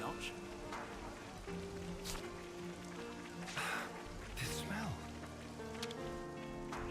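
Rain falls in Xenoblade Chronicles 3 as a soft, steady patter beneath music and occasional game sounds, with a voice talking over it.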